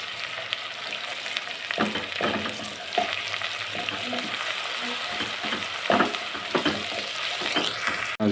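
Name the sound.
ginger garlic paste frying with onions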